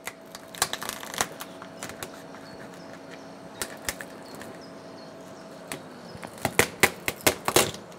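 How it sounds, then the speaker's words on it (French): A knife or shears crack through the shell of a Breton lobster in a kitchen, giving sharp, close snapping and crunching clicks, scattered at first and then quickening into a denser burst of cuts near the end. "On va découper la carapace."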